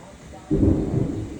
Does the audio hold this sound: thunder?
yes